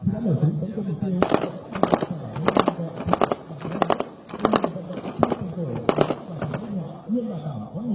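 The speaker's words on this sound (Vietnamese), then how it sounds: "đã nổ súng tấn công mục tiêu" Rapid bursts of gunfire from a police mobile regiment's firing drill, sharp cracks repeating roughly every half second or so in short clusters, loud and close, with a rumbling background and some voices underneath.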